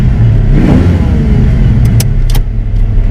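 Loud, close rumble of a Fox Body Mustang 5.0 302 V8 with MagnaFlow exhaust, a deep steady burble with a brief rev swell and some clatter near the end.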